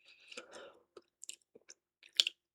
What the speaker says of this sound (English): And it gives it a really nice crunch.